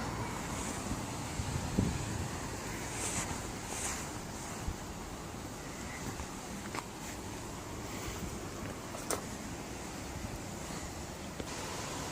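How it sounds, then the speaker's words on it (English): Steady outdoor wind blowing around a polytunnel, a continuous broadband rush with gusty swells and occasional faint knocks and rustles, moderately loud and without talk. "The wind is blowing,"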